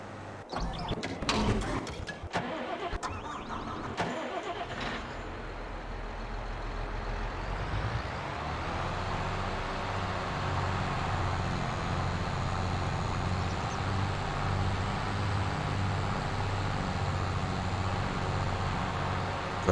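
A tractor engine in Farming Simulator 22 sets in as a steady, loud, low drone after several seconds of clattering mechanical knocks and clicks, then holds an even hum to the end.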